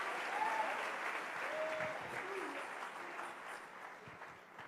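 A church congregation applauds in a steady wash of clapping with a few faint cheers, heard from a distance in the hall. The clapping fades only slightly toward the end.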